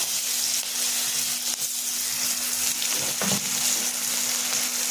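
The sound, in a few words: frying dried chillies and chopped onions in oil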